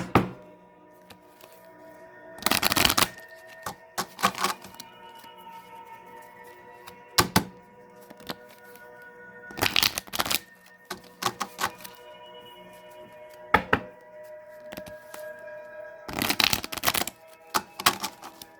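A tarot card deck is shuffled by hand in several short, loud riffling bursts, separated by quieter handling clicks and pauses, with no talking.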